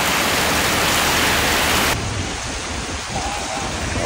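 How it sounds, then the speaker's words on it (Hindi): Heavy rain pours outdoors near a mosque, a loud, dense, unbroken wash of noise that softens slightly halfway through but keeps falling steadily throughout. "बारिश शुरू हो गई"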